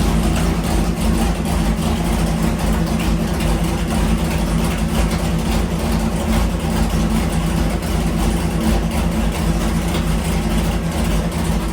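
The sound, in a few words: 327 engine running on the dyno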